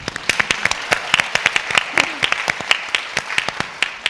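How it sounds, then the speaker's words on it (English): An audience applauds at a Women in Data Science conference at Stanford, a thin patter of many separate hand claps in a hall, moderately loud, with a voice briefly audible underneath. "give yourself a round of applause"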